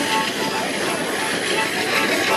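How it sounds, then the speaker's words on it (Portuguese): Trem do Cambuci train running toward Sabaúna, a loud, steady rushing rumble with hiss that holds without a break throughout. "trazendo para vocês um pouco desse trem que segue com destino a Sabaúna"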